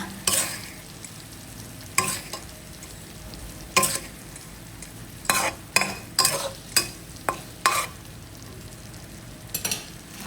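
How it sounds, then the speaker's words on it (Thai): Canned fish stirred gently in a pan with curry paste: soft sizzling underneath, broken by about a dozen distinct scraping, clattering stir strokes at irregular intervals, close and fairly loud, with no voices. "พอทุกอย่างได้ที่แล้วก็ใส่เนื้อปลากระป๋องลงไปค่ะ ขั้นตอนนี้ให้ผัดเบา ๆ นะคะ"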